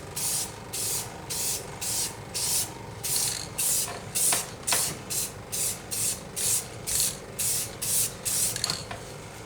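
Clear coat is sprayed onto a car headlight during a restoration in a series of about fifteen short, close aerosol hisses in a steady rhythm, with no talk.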